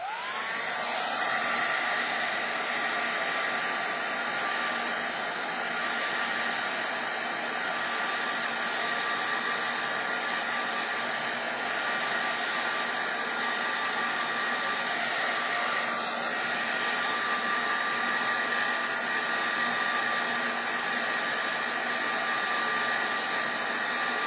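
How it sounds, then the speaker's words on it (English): Heat tool blowing hot air on alcohol ink, a loud steady whooshing roar with a fan whine that runs continuously and evenly, close up, with no talking. "I'll give it a whack with the heat tool now, and then just leave it and let it dry"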